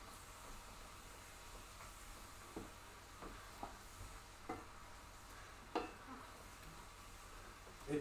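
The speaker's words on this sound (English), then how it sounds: "I love the sound of meat sizzling" Beef sizzles quietly in a pan as the base for borscht, a soft steady hiss broken by occasional light clicks and stirring taps, with no talking.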